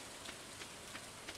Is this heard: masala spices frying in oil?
no